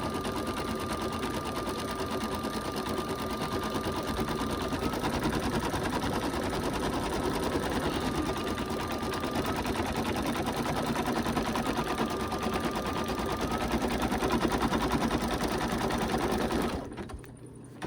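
An embroidery machine stitching a snowman design into fabric, a loud, rapid, steady mechanical chatter that continues unbroken before cutting off near the end.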